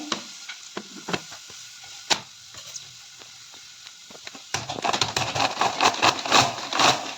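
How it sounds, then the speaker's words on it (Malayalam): A hand chopper works through shallots and green chillies for an onion-chilli pickle, first sparse clicks and taps, then a fast, dense burst of rattling chopping close by in the second half. "നമ്മൾ ഈ ചോപ്പർ യൂസ് ചെയ്തിട്ടാണ് ഇത് കട്ട് ചെയ്യുന്നത്"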